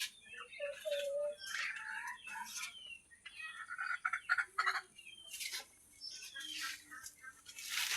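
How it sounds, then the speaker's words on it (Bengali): Chickens on a small village farm give faint, intermittent clucks and short calls at a distance, scattered over quiet background with brief pauses between bursts. "মুরগি।"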